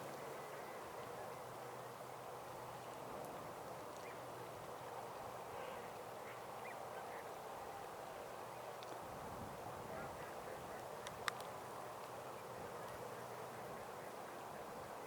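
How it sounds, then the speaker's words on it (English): A large flock of ducks at Montezuma National Wildlife Refuge quacks faintly from a distance, scattered calls over a steady low outdoor hiss, with a soft voice now and then and one sharp click. "these large flocks of ducks are much more distant"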